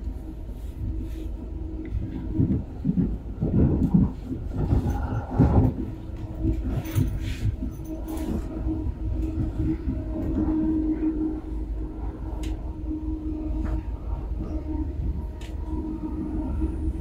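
An S-Bahn line S2 commuter train near Stuttgart running along the track, heard from inside as a continuous low rumble and rolling hum with occasional rattles and squeaks over its whole length.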